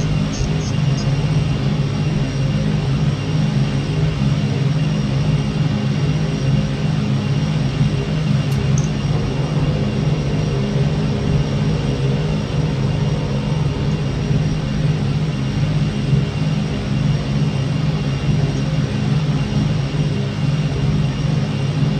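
A P-38 engine in a flight simulator drones steadily throughout, a continuous low rumbling hum of piston engines at constant power with no talk over it.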